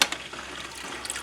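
Water pours through a Fluval Aquaclear aquarium filter in a brief close trickle and splash, steady and fairly quiet, with no voices.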